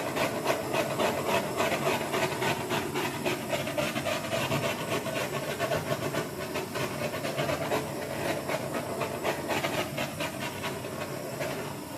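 A steady rough hiss from a torch played over an acrylic paint pour, continuous and fairly quiet, with no pauses and no voices.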